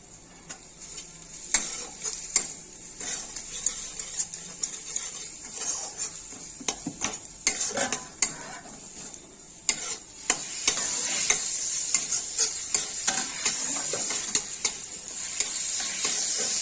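Spices with onion, turmeric and salt being fried and stirred in a pan, with a splash of water added: a constant sizzle under frequent sharp spatula scrapes and clinks against the pan.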